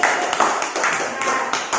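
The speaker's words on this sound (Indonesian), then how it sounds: "tepuk tangan untuk Goji" Classroom students clap for a classmate, a short burst of scattered hand claps with a few sharper taps, close and fairly loud, lasting under two seconds.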